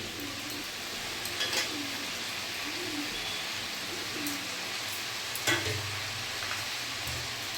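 Kui leaf greens being stirred into labra in a pan, giving a low, soft scraping and faint sizzle that run steadily under a busy background, with a couple of brief louder clinks.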